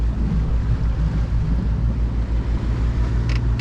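Sailboat motoring under engine at sea in the Sea of Cortez, a steady loud low engine drone with wind and water rushing over it, no talk.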